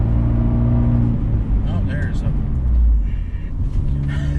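A 2020 Fiat 124 Spider Abarth engine in sport mode drones and builds steadily as the car accelerates, loud and close throughout, with a voice briefly talking over it.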